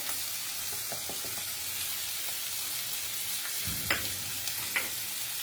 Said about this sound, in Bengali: এবারে এগুলোকে একসাথে করে কষিয়ে নিচ্ছি।